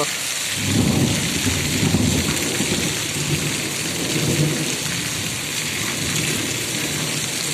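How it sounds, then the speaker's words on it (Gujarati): Heavy unseasonal rain pours steadily in Gadhada while low rumbles of thunder roll through, swelling twice in the first half before settling into a constant downpour. "વરસાદ કેવો છે વીજળીના કડાકા બડાકા થાય છે"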